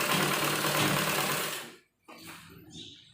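A sewing machine runs in a steady, close buzzing burst while stitching gents' underwear fabric, then stops briefly and restarts more softly.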